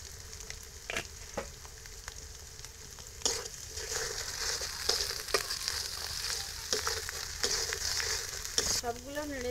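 Spices with salt and turmeric fry in a pan for a home-style duck egg bhuna curry, giving a steady sizzle broken by regular scraping strokes of a stirring spoon.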